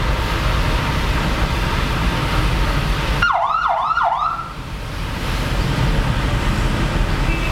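Police escort vehicle on a road near Abydos temple in Egypt lets out a short burst of wailing siren, three quick rising sweeps, loud and close, breaking into steady road and engine noise.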